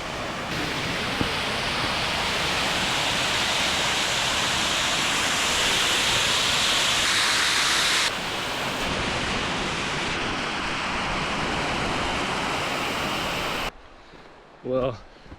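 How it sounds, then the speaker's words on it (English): A waterfall in the Southern Appalachians roars as a loud, steady broadband rush that fills most of the clip, then cuts off abruptly near the end, followed by a short burst of voice. "Before we leave, I thought we have to check out this waterfall."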